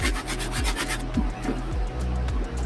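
A soft bristle brush scrubs a pair of Military Blue Jordan 4 sneakers in quick, rhythmic back-and-forth strokes, close and fairly quiet.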